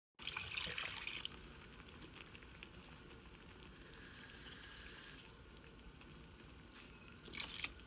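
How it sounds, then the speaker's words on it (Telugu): Water poured into a pot for mushroom quinoa pulao, a short splashing pour at the start followed by a quieter, steady trickle and faint sizzling, close and without speech. "ఒక 2 నిమిషాల తర్వాత ఒక కప్కి 2 కప్పుల వాటర్ పోసేసుకో"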